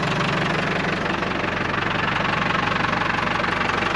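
International 100C engine running steadily after being reinstalled, a loud, close rumbling idle with a regular knocking pulse that holds for the whole stretch.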